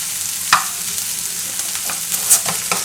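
Garlic sizzles gently in a pan over mild heat, a steady soft frying hiss with a few brief stirring scrapes.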